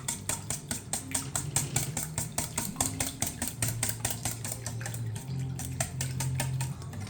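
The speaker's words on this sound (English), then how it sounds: "Let me quickly whisk this up for you." Muffin batter whisked briskly in a stainless steel bowl, a fast, even run of close metallic ticks and clicks repeating at a steady rhythm, with a faint low hum beneath.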